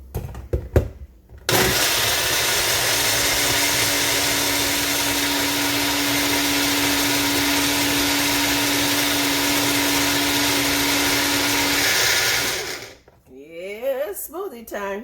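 A kitchen blender roars steadily for about ten seconds while blending a smoothie, loud and close with a constant motor whine, starting abruptly after a few brief knocks and cutting off before a short rattle at the end.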